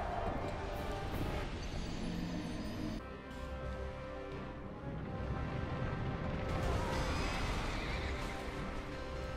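Horse in a Dark Souls 2 boss fight gives loud, shrill neighs over pounding hoof clatter, mixed with crashing combat effects and heavy impacts from the video game battle.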